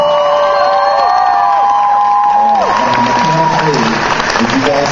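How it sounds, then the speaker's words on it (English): Loud, continuous audience applause and cheering from a convention panel crowd, with a few whoops rising over the clapping throughout. "give yourselves a big round of applause"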